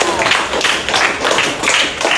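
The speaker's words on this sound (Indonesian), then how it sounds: "tepuk tangan untuk Gek Rara" Classroom applause for a student who answered a question, a steady patter of many hands clapping throughout, fairly close and continuous.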